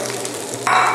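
Rice stir-fried over high heat in a pan for Thai green curry fried rice with dried gourami fish, a soft steady sizzle that swells into louder frying near the end, with no talking.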